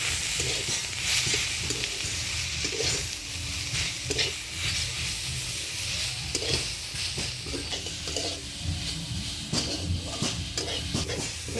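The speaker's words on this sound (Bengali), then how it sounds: "এই কড়াইয়ের মধ্যেই ফোড়ন দিয়ে দেবো শুকনো লঙ্কা" Dried red chillies and black cumin seeds sizzle steadily as a tempering in hot oil in a wok, a loud continuous frying hiss with occasional stirring scrapes and no talk.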